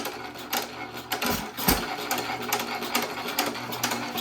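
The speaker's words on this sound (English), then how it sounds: "When you hear it double sucking, that means it's leaned out too far." A hit-and-miss engine chugs with a rapid rhythmic beat, running leaned out so it double sucks, a close, busy mechanical pattern with brief irregular thumps.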